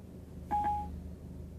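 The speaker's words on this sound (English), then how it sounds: "Calling Heidi Scherzer. Work" A GM car's hands-free system using Siri Eyes Free sounds a short electronic dialing tone as it places a call, a brief clear beep over a low steady cabin hum.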